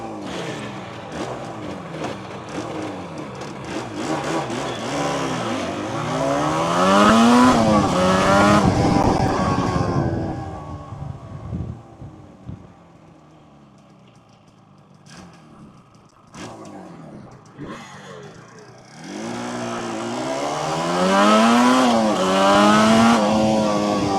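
A Yamaha RD500LC two-stroke motorcycle fires up and revs hard in loud rising and falling sweeps, drops to a lumpy idle, then revs sharply again.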